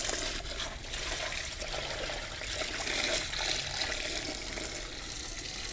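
Water drains steadily from an aquarium tank being emptied for refilling, a continuous close rushing trickle like a running tap, loud and even throughout with no voices.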